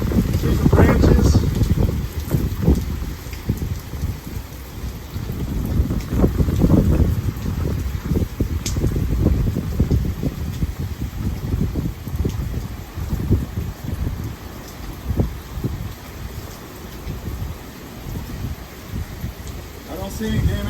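Hurricane Sally blows through Fairhope, Alabama, with heavy gusting wind roaring and buffeting the microphone and rain lashing sideways in a continuous loud rush. Short bursts of talk come through now and then.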